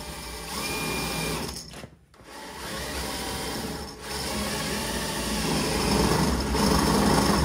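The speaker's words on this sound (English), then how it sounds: "so we're gonna drill right through" A power drill whines steadily at high speed, pausing briefly once, then grinds on loudly and continuously as it bores through the thin metal of a car door.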